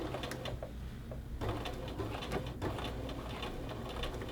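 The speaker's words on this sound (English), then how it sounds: "you will start sewing" A sewing machine stitches a 5/8 inch seam attaching a cuff to a men's shirt sleeve, a soft, quiet run of rapid, even needle clicks that pauses briefly before resuming.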